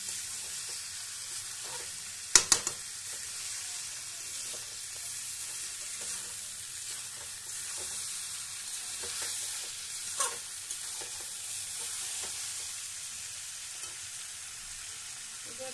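Potatoes and goat liver being sautéed together in a pan for a Bengali liver dish, with an even background sizzle and a couple of clattering stirs early on, steady and moderately quiet, without any voices.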